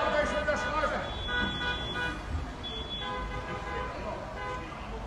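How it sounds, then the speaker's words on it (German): Car horns honk together in street traffic during a bicycle blockade, with sustained and overlapping blasts above a constant road rumble. Voices shout and chatter nearby throughout. "Eben, schönes Hupkonzert machen hier."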